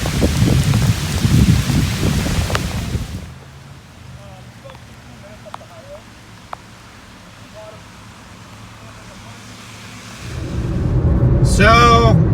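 Rain hisses loudly at first, drops to a quieter patter with a few faint clicks, then swells back up strongly near the end.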